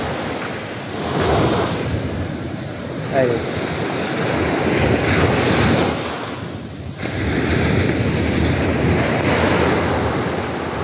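Sea waves washing against a seawall in Bicol, a broad, steady rushing surge that swells and fades over strong wind noise, with a brief spoken word.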